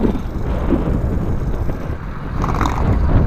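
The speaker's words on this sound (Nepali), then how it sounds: "आज हावा लास्टै छ यार, अति नै छ है" Strong gusty wind buffets the microphone with a constant low, rumbling roar. No one speaks.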